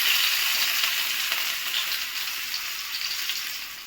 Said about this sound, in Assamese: এয়া মই এতিয়া নেহৰুখিনি ভাজি ল'ম